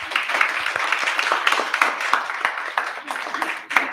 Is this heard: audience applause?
yes